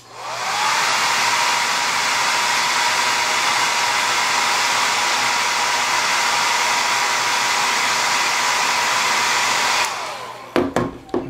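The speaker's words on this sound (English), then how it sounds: "Let's lick that a minute with the hairdryer." A hair dryer blows with a steady, loud, close rushing whir for about ten seconds drying a carved wooden penguin, then cuts off, followed by a few short clunks.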